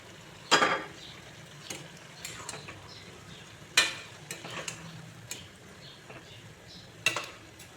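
Hilsa fish frying in a pan over a low gas flame, a soft sizzle under scattered clinks and scrapes of a utensil against the pan.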